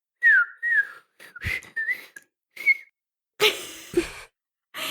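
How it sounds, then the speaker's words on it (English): A person whistles alone in a quiet room, a series of short, wavering tonal phrases broken by pauses, with a couple of breathy bursts toward the end. "I really thought I could do the whistle."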